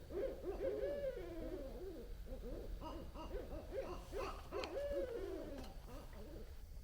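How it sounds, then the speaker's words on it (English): Owls hoot near a nest in Waco, Texas, in a dense chorus of wavering, repeated calls, close and continuous, overlapping one another against a low background rumble. "It's the sound of the owls."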